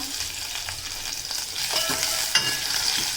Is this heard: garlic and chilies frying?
yes